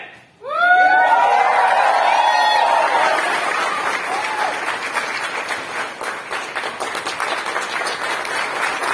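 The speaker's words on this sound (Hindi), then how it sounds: "बहुत बहुत ताली बजाइए।" A crowd at a meeting in Jorhat, Assam bursts into loud sustained applause, dense clapping and a few cheers that swell quickly, then taper slightly while continuing to the end.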